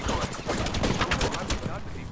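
Gunfire in a video game, heard as a rapid, dense burst of shots in quick succession, loud and continuous for about two seconds.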